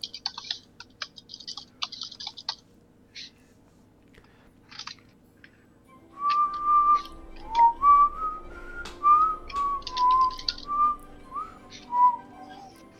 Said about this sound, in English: look at you just whistling whenever you feel like it